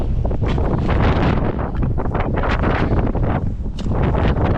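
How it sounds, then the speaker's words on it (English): Strong wind gusts buffet the microphone outdoors on a mountain trail, with a loud, continuous rumbling roar and irregular surges and no clear voices. "Of course, it's windy as heck today."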